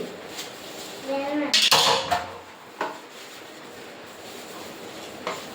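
Pots and dishes clatter and clank during washing at home in the evening, with a few sharp metallic knocks spaced apart over a quieter background.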